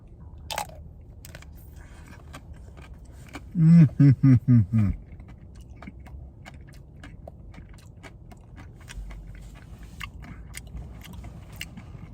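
A close, crisp crunching bite into frozen licorice ice cream breaks into a quick series of four or five crunches, then quiet smacking and faint mouth sounds.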